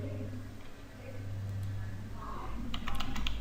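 Someone types a URL on a computer keyboard, giving faint key clicks over a steady low hum. A quick cluster of clicks comes near the end.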